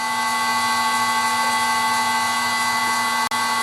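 A vintage metal lathe runs at 400 RPM: a steady, close mechanical whine with a constant hum that holds even throughout, broken only by a tiny click near the end.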